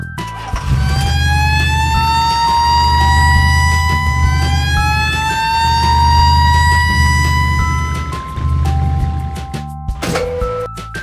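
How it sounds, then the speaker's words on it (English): A toy fire truck siren wails in rising and falling sweeps over a buzzing electronic drone, loud and close, ending with a short clunk. "red fire truck."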